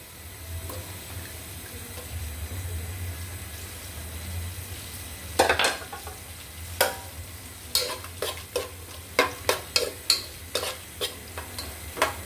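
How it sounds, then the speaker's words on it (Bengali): Garlic and onion frying in oil until crisp for a prawn and taro dish, a steady low sizzle with a string of sharp stirring scrapes and clinks growing more frequent toward the end, no voices. "রসুন আর পেঁয়াজ বেরেস্তা করে নিব কিছুটা, লাস্টে দেওয়ার জন্য"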